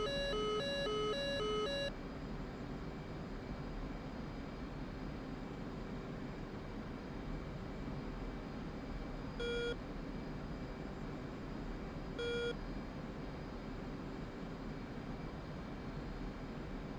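A radar lock warning from a MiG-25 in the DCS flight simulator game, heard as a rapid series of high electronic beeps at the start and then two short single tones, all over a steady jet cockpit rumble.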